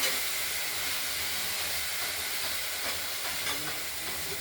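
Broccoli fries in a covered wok with green chilli and five-spice seeds, giving a steady, even hiss and sizzle that continues without a break, moderately quiet, with no voices.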